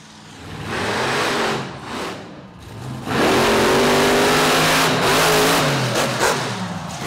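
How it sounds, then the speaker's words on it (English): Racing trucks at a tough-truck motorsport event rev their engines hard, a loud sustained roar that dips briefly then surges and holds near full volume with rising pitch. "Watch the rear wheels on these trucks."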